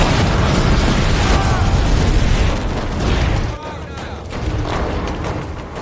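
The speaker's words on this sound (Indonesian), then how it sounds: "ledakan itu sengaja dibuat untuk menarik perhatian para penjaga" A loud, rumbling explosion from an action film scene about terrorists, dense and sustained, with a deep boom and debris crackle under a voiceover.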